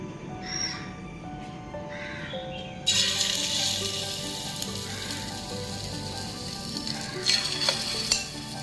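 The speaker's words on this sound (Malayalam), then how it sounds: "അപ്പം നമുക്കിനി മീൻ ഇതിലിട്ട് ഫ്രൈ ചെയ്താം." Marinated fish pieces frying in sunflower oil for chilli fish, a steady crackling sizzle that jumps louder as more pieces drop into the pan, with occasional scraping and clinks.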